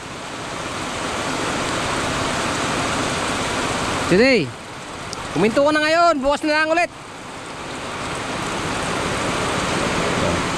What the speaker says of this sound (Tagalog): masyado ka ng maraming ulan